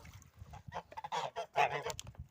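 A domestic duck calls in a rapid series of loud, close, nasal honking quacks, overlapping and continuous with no talk.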